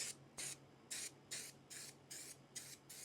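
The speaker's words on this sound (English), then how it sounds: "I'm literally gonna just like probably gonna like spray some of this adhesive right here" Spray adhesive hisses from a can in a series of short, even bursts, about seven quick sprays with brief pauses between, close to the listener.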